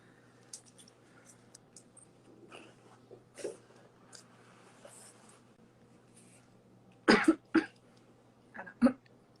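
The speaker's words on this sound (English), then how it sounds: "That was a dry cough." A few short, dry coughs burst out sharply in a quiet room, with faint rustling and small noises between them.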